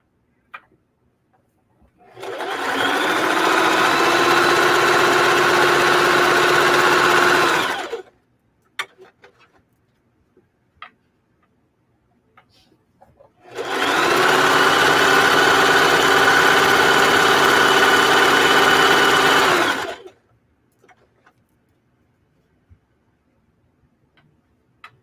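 A sewing machine stitches a sock along its serged edge in two steady runs of about five seconds each, close and loud, separated by a quiet pause with small handling clicks.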